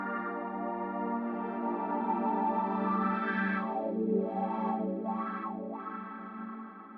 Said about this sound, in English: If you leave the resonance really high, that is going to cause a boost at the cutoff point of the filter